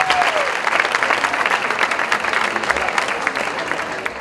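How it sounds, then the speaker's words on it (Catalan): Sustained applause from an audience at a disco anniversary party, a dense, steady wash of clapping that fills the whole stretch without breaks, with a faint tone sliding briefly near the start. "volem donar un fort aplaudiment al Ferran Rodríguez"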